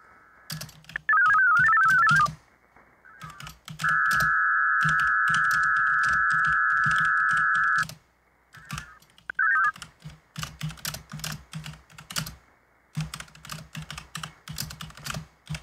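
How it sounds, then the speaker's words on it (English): Bursts of rapid clicking on a computer keyboard during an amateur radio software setup, broken by a loud sustained electronic tone and short warbling beeps, with no talking. "Typing"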